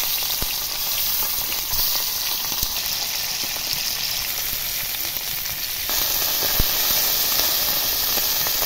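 Fish rubbed with salt and turmeric frying in oil in a kadai: a loud, steady sizzle and hiss continues throughout, with a few faint knocks, no talk.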